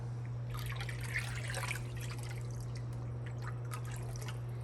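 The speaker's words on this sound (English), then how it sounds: "So we're gonna pour it in our water as well." Liquid hydroponic nutrient pours and trickles quietly into water for a few seconds, then thins to faint drips over a steady low hum.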